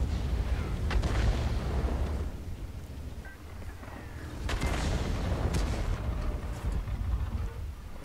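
An artillery shell hitting a tank in the World of Tanks video game: a couple of dull, muffled impacts over a steady low rumble of game ambience, fairly quiet overall.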